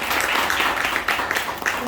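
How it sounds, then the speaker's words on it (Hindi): A seated audience at a direct selling training seminar breaks into brief, dense applause, a continuous wash of many hands clapping close and fairly loud from start to finish. "ताली बजा सकते हो यार"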